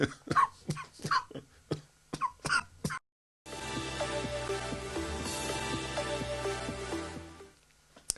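A run of sharp, repeated coughs in quick bursts, then a short silence before music begins.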